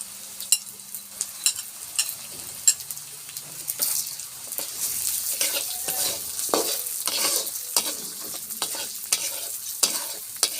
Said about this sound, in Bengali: এবার কলাইয়ের ডাল তেলে দিব।